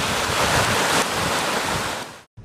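Large ocean waves crashing during a North Sea storm, a loud and continuous roar of surf mixed with heavy wind noise that breaks off abruptly near the end.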